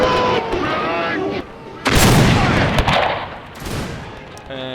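Gunfire and artillery crack and boom in a video game battle against advancing Zulu warriors at Gingindlovu, with repeated loud volleys and bursts, some close and some distant, under a voice talking.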